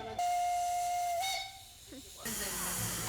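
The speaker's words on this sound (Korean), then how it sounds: "귀여운 경적 소리와 함께 기차는 출발한다." A thin, steady steam whistle sounds for over a second over hissing steam as a Romanian steam train departs, followed by louder rushing steam noise.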